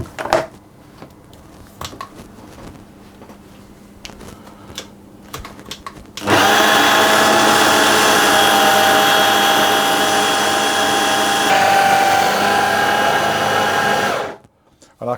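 A food processor whirs loudly and steadily for about eight seconds, blending lemon juice and two egg yolks into an almond biscuit dough, starting abruptly after a quieter stretch and cutting off sharply at the end.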